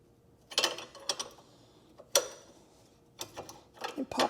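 Loosening a bolt with a 17 mm wrench on a second-generation Prius during a lift kit install, giving a few sharp metallic clicks and ratcheting ticks in short separate bursts, close by with no talking.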